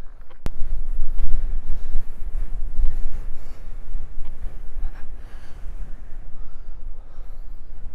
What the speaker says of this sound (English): it's fairly windy because we're at the top of a hill